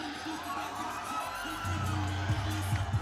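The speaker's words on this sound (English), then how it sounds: "And the cheers you hear on the far side" Boxing crowd cheering and whooping from the far side of the arena, a broad roar of many voices with a commentator talking over it.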